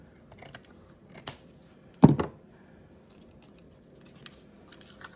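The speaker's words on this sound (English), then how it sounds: "I'm going to cut 2 pieces this length." A single sharp snip of scissors cutting through holiday decoration ribbon, close and fairly loud against a quiet room, with a few faint handling ticks before and after.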